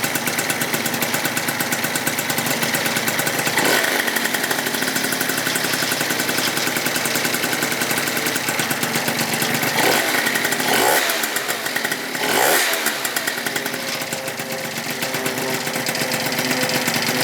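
A freshly built Yamaha Zuma 70cc stunt scooter runs on its first start, a loud, buzzy two-stroke engine idling steadily nearby with a few brief blips of the throttle.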